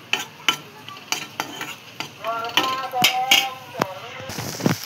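Soya chunks and potatoes are stir-fried with turmeric, salt and spices in a pan: a steady sizzle with repeated scraping strokes of a spoon, and a voice talking briefly partway through.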